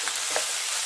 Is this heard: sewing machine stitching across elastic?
no